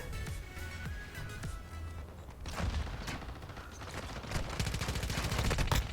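Rapid bursts of gunfire crackle and pop with heavy booming explosions in Call of Duty: Warzone Mobile, growing denser and louder toward the end.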